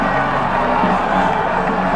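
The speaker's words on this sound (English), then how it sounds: "Crowd going wild." Rugby stadium crowd at a Super Rugby match roaring and cheering after a try, a dense, sustained wash of many voices heard from within the stands.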